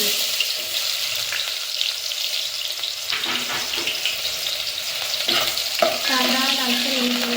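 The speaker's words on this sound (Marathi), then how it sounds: "तेल गरम झाल्यानंतर कांदा परतून घेऊ।" Sliced onion frying in a generous amount of hot oil for a spicy village-style Kolhapuri chicken rassa: a steady, close sizzle and hiss with a few clinks of a utensil against the pan.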